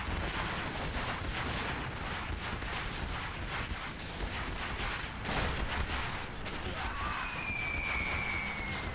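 An artillery barrage from a real-time strategy video game. Continuous rumbling impacts and overlapping blasts hold steady at a dense, loud level, with a rising whistle near the end.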